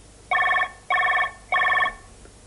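A telephone bell rings in three even bursts with short gaps between them, clear and fairly close, with no voices over it.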